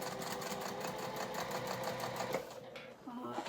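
A sewing machine stitches steadily with a fast, even mechanical rhythm up close, then slows and stops, followed by a brief whirring wind of the mechanism while sewing the Moondance.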